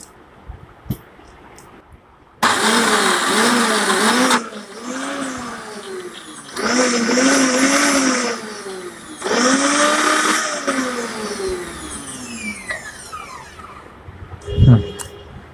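An Orpat 1200 watt blender grinds dry spices in loud motor bursts, roughly three runs of a few seconds each separated by short pauses, with pitch dipping and rising as the load shifts, close and alone.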